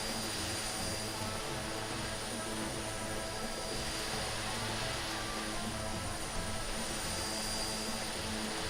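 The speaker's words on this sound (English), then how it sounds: "I've got the drone camera so far from the airplane, but it's still super loud." A twin-engine de Havilland Twin Otter propeller airplane drones steadily in a flight simulator, its loud, unbroken engine and propeller roar filling the whole stretch without any change in level.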